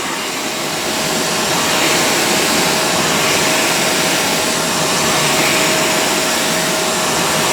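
A Shark StainStriker HairPro Pet PX251 portable carpet cleaner runs on suction only, giving a loud, steady, close motor roar with a faint constant whine and no talk.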